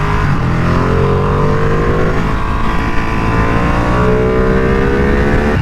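A Ducati sport motorcycle being ridden at speed, its engine droning loud and steady with rising pitch as it accelerates, mixed with heavy wind rush and no voices.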